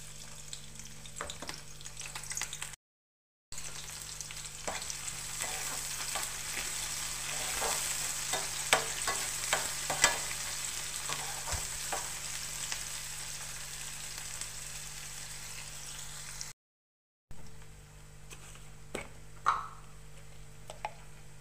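Onions fry in oil in a pan as the base for a fenugreek-leaf, tomato and moong dal curry, giving a steady close sizzle with occasional stirring scrapes and two brief silent gaps.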